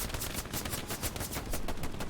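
Sustained, dense machine gun fire in the World War II shooter game Hell Let Loose, loud and continuous with rapid overlapping bursts of gunfire throughout.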